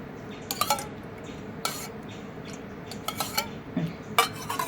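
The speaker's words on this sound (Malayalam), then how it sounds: "നന്നായിട്ടൊന്ന് മിക്സ് ചെയ്യാം കേട്ടോ. ഇത് മിക്സിംഗ് ആണ് ഇച്ചിരി പാട്" A spoon stirring a coconut oil mixture in a bowl, giving a few sharp clinks and scrapes of metal against the bowl in irregular strokes, close and fairly quiet with no talking.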